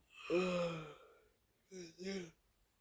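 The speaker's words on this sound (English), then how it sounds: "Sorry for yawning, I woke up so early" A yawn: one long, breathy vocal exhalation, then two shorter voiced breaths, quiet and close, with no other sounds around them.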